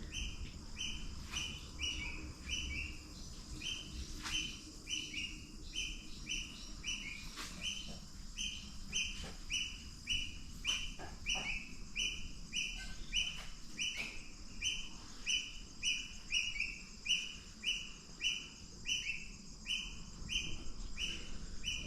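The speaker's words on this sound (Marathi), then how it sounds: "पक्ष्यांचे आवाज बघा माझ्या घराच्या इथून कसे ऐकायला येत आहेत ते" Many birds chirp and tweet in repeated bright bursts over a steady outdoor hum, several calls overlapping throughout at moderate distance.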